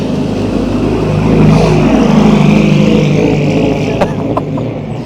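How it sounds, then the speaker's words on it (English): A loud Lancia car drives past on the road, its engine roar building to a peak and holding as it passes close by, then easing off. "So here comes Lancia, finally out on the road."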